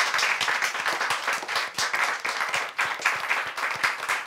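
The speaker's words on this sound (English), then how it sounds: "Well, I think they deserve an applause." Studio audience applauds the guests on a talk show about female leaders, a moderately quiet, steady patter of many hands clapping with slight swells.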